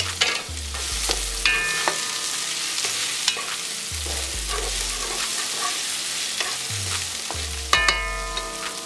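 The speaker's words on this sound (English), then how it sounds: "I'm just going to stir that in there real quick." Chicken fried rice sizzles in a hot pan while a utensil stirs it, giving a steady crackle with regular scraping strokes and deeper thumps every few seconds, close and fairly loud.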